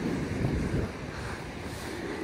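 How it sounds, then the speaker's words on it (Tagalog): Strong sea waves and gusting wind on a cold grey day at Blackpool beach, a loud continuous roar of surf with wind buffeting the microphone. "napakalakas ng alon kasi sobrang hangin"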